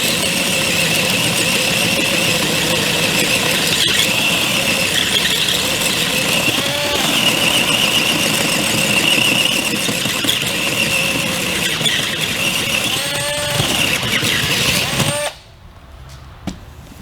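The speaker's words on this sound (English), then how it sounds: "Same piece of wood, same bit. in the Worksite drill." A Worksite 20V cordless drill boring through a piece of wood, a steady high-pitched whine with wavering pitch that runs loud and continuous for about fifteen seconds before cutting off abruptly.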